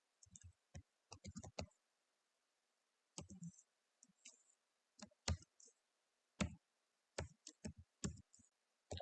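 A computer mouse gives sparse, faint clicks in small irregular clusters, single and double taps with pauses between them, against a quiet background.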